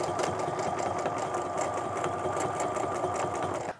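A home sewing machine runs continuously while free-motion quilting with rulers, a fast even mechanical whir and needle chatter at close range, stopping abruptly at the end.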